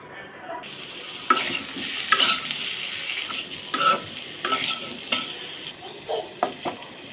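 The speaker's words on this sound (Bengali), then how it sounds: "এখন হলুদ লবণ দিয়ে আলুটা আমি হালকা আঁচে ভেজে নিব।" Boiled, peeled potatoes fry in oil in a wok over low heat with turmeric and salt, giving a soft continuous sizzle and repeated close scrapes and clinks of a stirring spatula.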